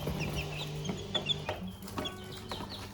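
Young Padovana, Faverolles and Rhode Island chicks cluck softly and repeatedly in grass outdoors. Their calls are faint and scattered over a low background.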